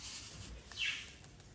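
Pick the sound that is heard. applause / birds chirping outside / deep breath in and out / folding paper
birds chirping outside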